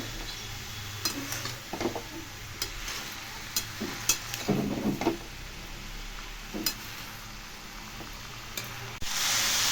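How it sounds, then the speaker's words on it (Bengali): Chopped bottle gourd being stirred in a hot pan for a Bengali-style lau dish, with a steady sizzle under intermittent scrapes and clinks of a spatula against the pan, close and moderately loud, no talking. "এবার আমি এটাকে ভালো করে নেড়ে চেড়ে দিচ্ছি"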